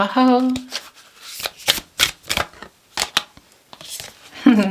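Tarot cards are shuffled and drawn in a series of sharp riffling bursts and flicks, close and crisp, with a voice speaking briefly at the start and end.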